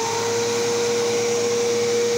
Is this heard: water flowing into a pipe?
no